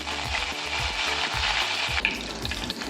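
Half a spoon each of mustard seeds and cumin, plus curry leaves, sizzle in two spoons of hot oil for an Aagri-style val bhaji, giving a dense, loud, continuous frying hiss close by with faint clicking pops.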